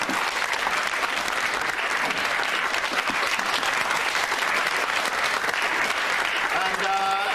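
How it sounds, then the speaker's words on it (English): Sustained, dense audience applause in a school hall for a student named Dale, loud and even from start to finish, with a faint voice near the end. "Round of applause for Dale."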